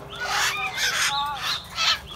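Hill myna birds in separate cages give several loud, close, whistling and squawking calls in quick succession, with short gaps between bursts and a faint background hum.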